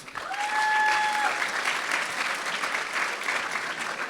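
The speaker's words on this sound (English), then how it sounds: "a round of applause for all of the athletic staff." A crowd claps steadily for the athletic staff at an awards ceremony, a full, continuous round of applause with a brief whistle-like tone over the opening second and no standout individual claps.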